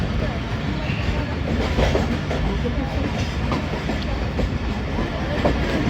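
Rehman Baba Express rolling slowly through Chaklala station, a steady rumble of railcars with faint clickety-clack of wheels over rail joints, continuous and fairly close, with some voices mixed in.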